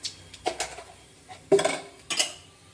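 A spoon clinks and scrapes against a pan while nigella seeds (black cumin) are stirred in hot oil, a few short metallic knocks spaced irregularly, fairly close and with no talking.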